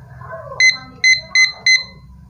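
A digital study timer beeping in a room: four sharp electronic beeps, the first a quick double pulse, then three evenly spaced beeps, clear and close over a quiet background.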